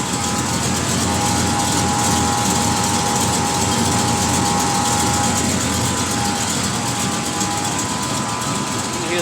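Chevrolet El Camino from 1982 with an LT4 engine and hot cam, idling steadily and loud throughout with a dense, constant engine drone and no clear pauses.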